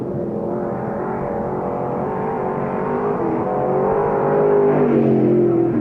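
Race cars on the final lap at Knox County Raceway produce a continuous droning engine roar that builds slightly louder toward the end as the field passes, with no voices over it.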